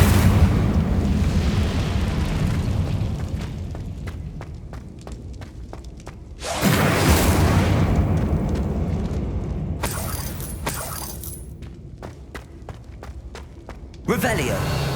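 Incendio fire spell casts in Hogwarts Legacy, whooshing blasts of flame near six and ten seconds and again at fourteen, amid footsteps and a low roar, with someone talking.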